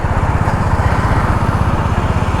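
A Honda CB350 Highness motorcycle engine runs at a steady low rumble with a fast, even pulsing beat, close and loud throughout with no talk.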